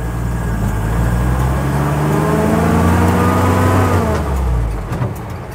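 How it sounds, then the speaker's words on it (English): A 1958 Ford Thames 400E bakery van's four-cylinder engine drones steadily with audible fan whir while rounding a roundabout, loud and close, its note rising and falling before easing off near the end. "Plenty of fan noise from that four-cylinder engine."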